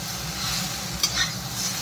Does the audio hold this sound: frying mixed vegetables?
yes